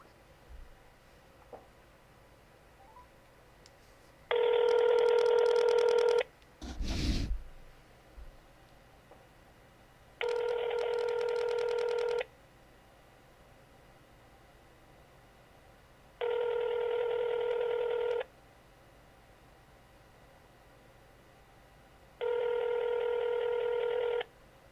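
Four long, evenly spaced telephone keypad tones sound clearly over a faint background hiss, with a brief rustling thump between the first two.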